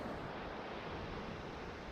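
Ocean waves wash steadily onto a rocky beach on the Washington coast, a continuous loud roar of surf mixed with wind buffeting the microphone, with no voices.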